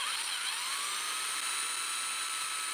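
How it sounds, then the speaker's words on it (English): Power drill boring into the trunk of a 'Deshojo' Japanese maple bonsai for a thread graft, a steady high whine held close and continuous throughout with no talk. "Applying gentle pressure to my drill, and then I'm allowing it to back off a little bit so that the shreds of wood come out."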